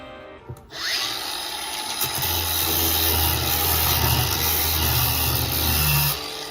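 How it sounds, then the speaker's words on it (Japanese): A small angle grinder shapes the shaft of a handmade wooden golf club, starting with a rising whir and then grinding continuously and loudly at close range, the pitch shifting slightly as it bites into the wood. "はじめにベビーサンダーでシャフトの細くなる部分を修正しています。"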